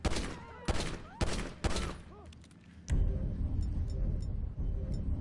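Several sharp gunshots crack close and loud in a quick series at the start, followed by a quieter stretch and then a steady rumbling background with faint distant pops.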